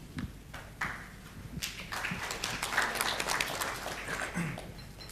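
Applause from an audience at a regional partners meeting in New Delhi as a speaker is welcomed, scattered claps building into a sustained moderate round of clapping at a distance.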